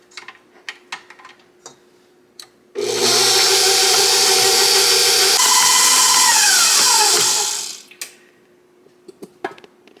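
A handheld electric mixer whirs loudly and steadily for about five seconds through banana loaf batter, dropping slightly in pitch partway through. Light clinks and taps from the bowl come before and after it.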